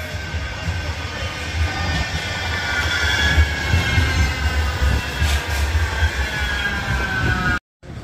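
A tram passes along a city street with a loud, steady rolling rumble and a rising metallic whine, holding close and constant before a brief dropout near the end.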